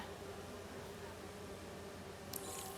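Steady, quiet buzzing of bees in a lab in Marvel's Spider-Man 2, a continuous low hum that runs unbroken and is joined by a brief hiss near the end.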